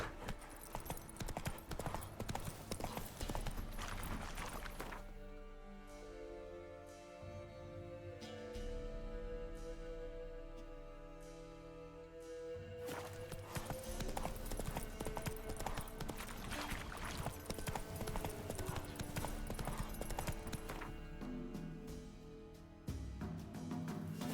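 A horse's hooves in The Witcher 3 beat out a rapid, continuous galloping clip-clop close by, easing to a softer rhythm midway while a sustained musical tone plays, then picking back up to a hard gallop.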